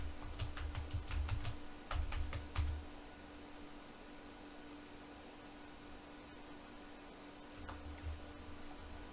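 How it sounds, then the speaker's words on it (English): Password typed on a computer keyboard beside a Lenovo ST550 server during an ESXi 8.0 install: a short run of close, crisp keystrokes, then quiet room hum broken by a few more keystrokes near the end. "Am I typing my password wrong?"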